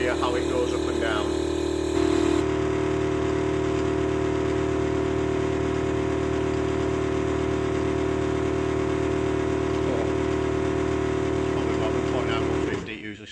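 An electric air ride suspension compressor runs continuously to pump up its tank, a steady loud mechanical drone with a hum, holding level for over ten seconds before winding down at the end.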